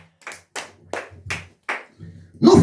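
A church congregation claps to acclaim the Lord in five or six sharp, evenly spaced claps at close range, ending in a louder, fuller burst of applause.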